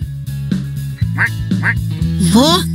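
Cartoon ducks quack three times in a lively row over a steady bouncy children's-show music bed, each quack bright and close, the last one longer and wobbling.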